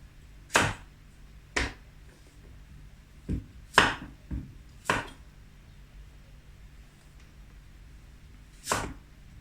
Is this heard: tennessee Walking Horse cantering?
no